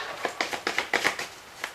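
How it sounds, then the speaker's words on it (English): Tarot cards are shuffled by hand at close range, giving quick soft riffling flutters in an uneven rhythm, fairly quiet with no talk. "so let's just give these a good shuffle"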